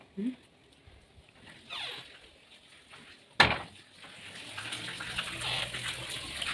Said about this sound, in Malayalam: ഇപ്പോൾ മഴ ചാറുന്നുണ്ട്